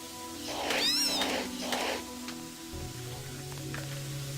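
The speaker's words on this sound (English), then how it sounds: "As much as I enjoy the sound of that cat killing the rats." A cat in the Deus Ex video game yowls and meows repeatedly while killing rats, several drawn-out caterwauling cries in a row over a steady low hum, then quieter scuffling and faint squeaks.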